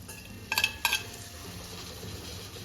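A spoon clinks twice against a cooking pot while boiled peas, chickpeas and pigeon peas are stirred, faint soft scraping under a low background hum.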